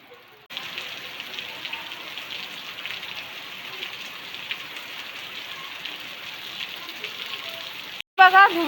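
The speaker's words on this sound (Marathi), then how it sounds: "हा बघा पाऊस बघा, सुरुवातीलाच एवढा पाऊस पडायला लागला." Heavy early-monsoon rain pours down in a steady, dense hiss that starts abruptly and holds evenly for several seconds before cutting off, with a louder clatter at the very end.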